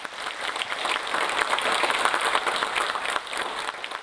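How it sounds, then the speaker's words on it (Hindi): Audience applause at a motivational talk, steady dense clapping from a crowd filling the whole stretch at an even level, with no voices on top. "और आप अगर तालियां बजा दें तो बड़ा अच्छा लगेगा।"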